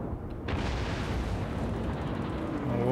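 A heavy naval gun fires in a Battleship video game, a deep booming blast that swells in suddenly and rolls on as a loud sustained rumble, with a voice faintly rising at the end.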